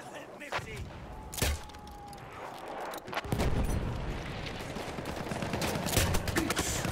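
Bursts of gunfire and explosions in the video game Battlefield 1 multiplayer, with sharp cracks and heavier rolling booms building to steady, loud battle noise, and a few voices under the shooting.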